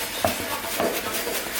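Salted meat being mixed with seasoning by hand or utensil, giving soft, irregular stirring and light clinks against a bowl, fairly quiet and without talk.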